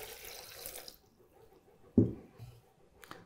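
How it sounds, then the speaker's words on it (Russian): Two glasses of water pour into a drink mixture in a rushing stream for about a second, then stop; a splash and light knocks follow in the quiet. "мы заливаем вот это количество нашей смеси двумя стаканами воды"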